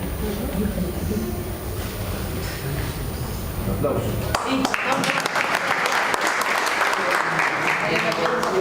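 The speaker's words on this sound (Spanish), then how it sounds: "una manera de expresarlo es el aplauso" Audience applause at a public talk on a crimes-against-humanity trial in Bahía Blanca, a dense, steady clapping that carries evenly through the clip after a brief stretch of room noise and murmuring.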